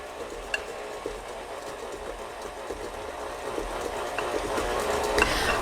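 An electric mixer churns a flour mixture into gingerbread biscotti dough, giving a steady, continuous mechanical whir with faint scraping that grows slightly louder toward the end, heard alone without talk.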